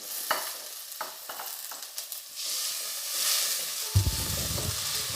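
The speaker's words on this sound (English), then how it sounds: "Saute it well." Chopped tomato sautés with onion and curry leaves in a pan, giving a soft sizzle broken by spatula taps and scrapes, then a louder rumbling stir and clatter near the end.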